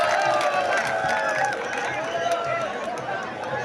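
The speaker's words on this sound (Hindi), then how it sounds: "एक बार जोरदार ताली बजा करके हम जो है चंद्रभान जी का अभिनंदन करते हैं" A crowd at an independent candidate's election rally in Chittorgarh claps loudly and steadily in a dense wash of applause, mixed with cheering and voices.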